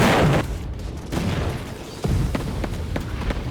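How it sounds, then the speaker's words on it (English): A grenade blast in a Roblox war game: a heavy boom opens, followed by further deep booms and scattered gunfire cracks over rumbling background, no talk. "Oh shit, grenade!"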